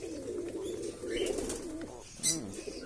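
Pigeons coo softly nearby, low murmuring calls over quiet background rustle.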